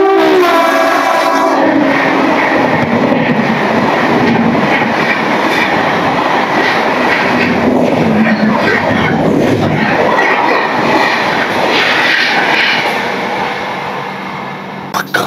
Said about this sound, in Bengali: ওই দিক দিয়ে আসে 12042 NGP হাওড়া শতাব্দী এক্সপ্রেস।